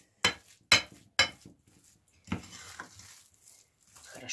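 Thick cottage cheese dough for syrniki being stirred with a spoon in a bowl: three sharp scraping knocks, then softer intermittent scraping and clinking, close and moderately loud, with no talk.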